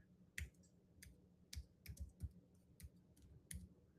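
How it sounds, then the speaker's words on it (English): Buttons being clicked, a string of sharp, separate clicks at an uneven pace, close and fairly quiet, with no voices. "Your boy's getting good over here at clicking buttons"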